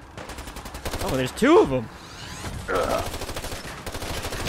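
Gunfire in modded Fallout 4 during a rescue mission, with a short burst of rapid shots, a pause, then another quick volley and more scattered rounds, loud and close, while a player speaks briefly between them.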